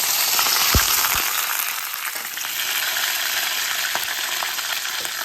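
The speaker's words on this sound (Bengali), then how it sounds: "এইভাবে একে একে সব বেগুনগুলো ভেজে নেব" Eggplant slices fry in hot oil with a steady close sizzle and crackle, a brief low thump near the start, otherwise an even hiss.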